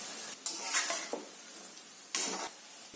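Soya chunks sizzle softly in hot oil while a utensil stirs them, with a few louder scraping sweeps against the pan over a faint, steady frying hiss.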